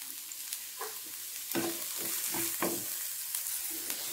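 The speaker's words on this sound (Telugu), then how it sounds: "చూడండి మంచిగా వేయించేసుకోవాలి" Sliced onion and green chilli fry in a pan with a constant hiss, and a few stirring scrapes and clinks break through it.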